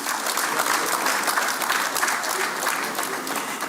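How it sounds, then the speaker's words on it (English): A large audience at a 90th birthday celebration for Nigeria's former head of state Yakubu Gowon gives a sustained round of applause, steady and dense clapping throughout. "Let's give another round of applause to our celebrant,"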